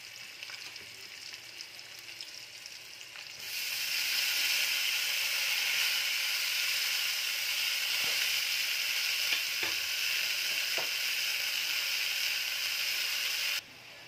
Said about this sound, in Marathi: आता मी यामध्ये शेपूची भाजी घालून घेत आहे।